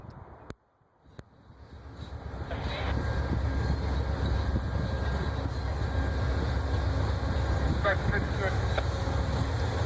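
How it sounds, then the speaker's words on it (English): Amtrak's Crescent passenger train, led by engines 152 and 204, pulls south out of the Birmingham station. A low rumble swells after two sharp knocks and then holds loud and steady, with faint tonal whines on top. "with engines 152 and 204, the Crescent heads south"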